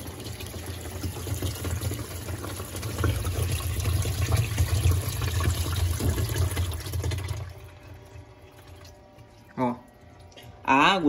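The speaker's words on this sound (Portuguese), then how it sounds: "Olha a água saindo aqui embaixo, como que ela sai com pressão." Water gushes under pressure in a Whirlpool Vantage 4.0 cu ft washing machine (WTW7990XG), a continuous loud rush that stops abruptly partway through, followed by someone speaking briefly near the end.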